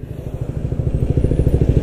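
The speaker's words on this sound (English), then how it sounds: "Scooter bruh!" A scooter passes close by, its small engine giving a steady, throbbing buzz of rapid pulses for a couple of seconds.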